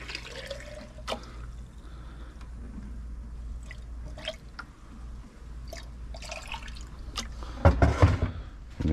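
Water dripping and trickling into a container being filled two-thirds to three-quarters full for cleaning a pool salt cell, quiet and close, with scattered splashes and a louder burst of pouring near the end.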